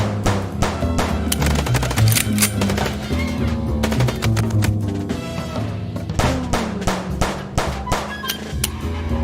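Rapid gunfire in the noir adventure game Chicken Police during a car chase, repeated sharp shots over a steady engine-like drone and music, loud and close throughout.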